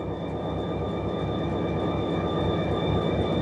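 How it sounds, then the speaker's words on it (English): A Lake Michigan & Indiana Railroad inbound train rolls past at Coffey's Cliff, a steady loud rumble of wheels and cars with sustained tonal whine, continuous and close throughout with no talk. "There goes our inbound train."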